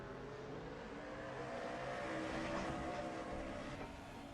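Racing trucks roar around the Sonoma track in a sim racing series, a steady distant engine drone that swells slightly midway as they pass, quiet and continuous.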